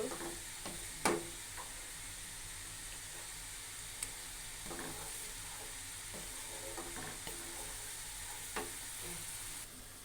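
Potato and pointed gourd pieces sauté in a pan with a soft, even sizzle and a few scattered utensil clicks, fairly quiet and close.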